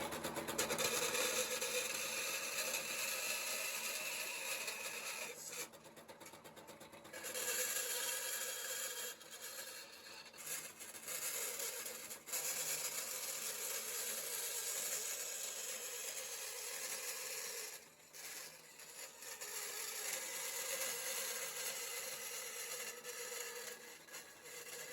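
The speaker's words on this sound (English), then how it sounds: "From here we can go in the bandsaw and just nip it up to shape a little easier." A bandsaw cuts a wooden cat silhouette for a homemade bird scare, giving a steady loud mechanical whine with a few brief dips and pauses as the board is fed through.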